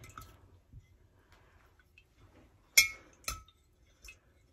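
Stones being stirred in a stabilizing solution inside a glass jar, sparse quiet clinks with a few sharper glassy knocks near the middle and end.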